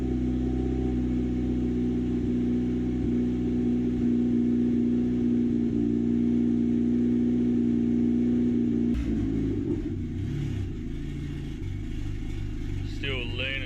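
A turbo engine swapped into a Nissan Pulsar runs steadily above idle with a low, even drone, then the tone shifts and wavers near the end as the revs change.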